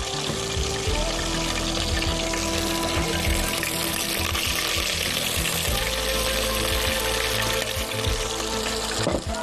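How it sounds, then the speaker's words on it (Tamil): Crushed spices sizzle and crackle steadily in hot ghee, a dense continuous frying hiss with faint clinks near the end. "இப்போ இடித்த மசாலாவை இந்த நெய்யில் போடுங்க."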